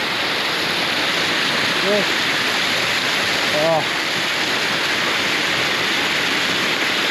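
Waterfall at Scout's Falls pouring down as a loud, continuous broadband rush of water, with a couple of brief spoken exclamations over it.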